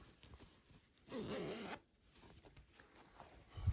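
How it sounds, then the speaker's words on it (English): A zipper on a sewn star-shaped fabric pouch is pulled closed in one quick, soft rasping sweep lasting under a second, close but quiet, amid light handling rustle. "I'm going to close my zipper"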